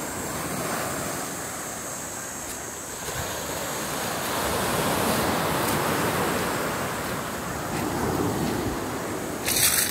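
Sea waves wash steadily onto the shore at Sitio Kota, Real, Quezon, with a continuous surf roar that swells and recedes, plus some wind buffeting.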